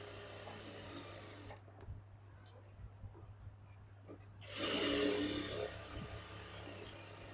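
A sewing machine stitches a salwar in loud, close mechanical whirring bursts, with a quieter pause between the runs.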